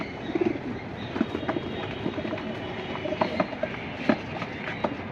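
Deep blue Jabra pigeons coo and flutter in a collection, their soft repeated calls scattered over a steady rumbling background noise.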